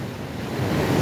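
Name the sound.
storm surge waves flooding the boulevard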